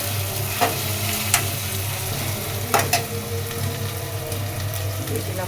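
Onion frying with ginger garlic paste sizzles loudly and steadily in a pan under a low hum, with a few sharp spatula scrapes and clinks at irregular moments.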